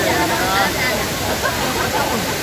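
Tay-Tay Falls in Laguna pours in a steady, dense rush of falling water, close and loud, with voices talking faintly underneath.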